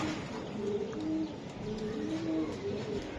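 Racing pigeons, among them a female, cooing in soft repeated low calls close by, with faint chirps and some background noise around them.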